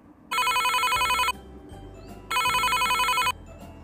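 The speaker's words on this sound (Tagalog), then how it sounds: "Oh, nagre-ring." A video call rings out with two identical electronic ringtone bursts, each lasting about a second, separated by a short pause over quiet room background.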